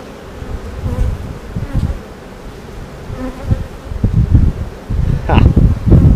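Honeybees buzz close around an opened hive during an inspection, a dense droning swarm with rustling, bumping handling noises and gusts of wind over the microphone.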